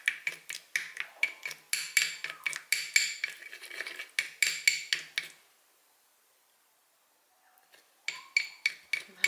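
A utensil whisks cream and oil together in a bowl for Turkish borek, sounding as rapid rhythmic clinking against the dish. The clinking pauses into near silence before starting again close up.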